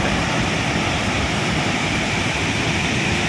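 Athirappilly waterfall pours in a dense, unbroken roar of rushing water, loud and close, with no pauses and no voices.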